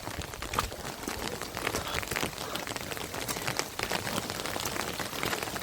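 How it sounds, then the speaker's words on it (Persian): Steady rain pours down as a storm begins, a dense, even hiss of drops on surfaces that holds for several seconds with no voices. "بارون شروع شد زود"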